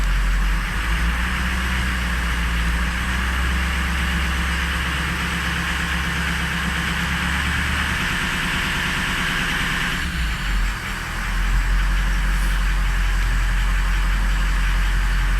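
The engine of a 2004 car idles after a cold start on a chilly day of about 40 degrees, a steady, loud, low rumble that runs unbroken with a slight shift in tone partway through and no talking.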